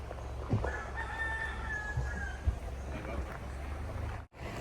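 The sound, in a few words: rooster crowing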